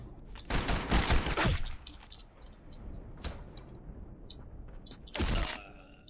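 Gunfire in the video game Black Squad aimed at the player: a long loud burst of rapid shots, then a short single crack, and another heavy burst near the end, with low game ambience between.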